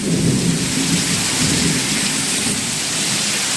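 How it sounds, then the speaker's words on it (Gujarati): A heavy thunderstorm: steady, loud, close rainfall hisses without a break while thunder rumbles low beneath it, with no voices. "હા જો આવી વીજળીમાં વરસાદમાં નાઈ છે."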